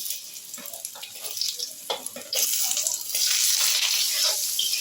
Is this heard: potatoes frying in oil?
yes